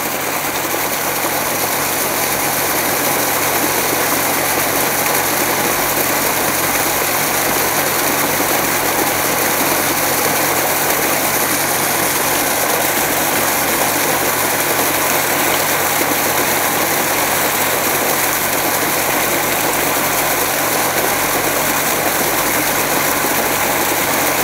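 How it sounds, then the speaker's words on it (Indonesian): A modified JET 1000 water pump running, a constant loud mechanical drone that stays even from start to finish, close and unbroken. "inilah bibit air yang keluar saat pompa air ini dinyalakan"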